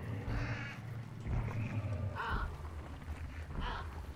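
Crows in the Hunt: Showdown video game caw in a few harsh calls over a low, rumbling game ambience, heard moderately close and without speech.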